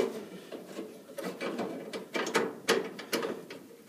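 A ratchet tightening a furnace thermocouple fitting, quick bursts of metallic clicking pawl ratchets, close and fairly loud, several short runs alone without speech.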